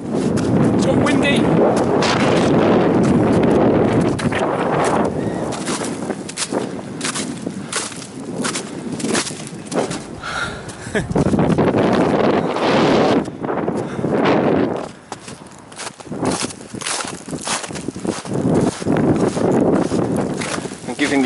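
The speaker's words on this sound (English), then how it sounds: "It's got windy." Strong wind buffets the microphone in loud, gusting roars that rise and fall throughout, with brief heavier bursts and occasional crunching steps in snow in Scotland.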